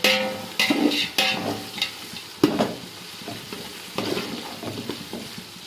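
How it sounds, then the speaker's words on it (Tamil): Onions sizzle in hot oil for mutton biryani while a spoon scrapes and stirs the pan in irregular strokes, the frying hiss constant underneath. "வெங்காயம் நல்லா ஒரு கோல்டன் கலர் வரட்டும் அந்த அளவுக்கு வதக்கிக்கலாம்"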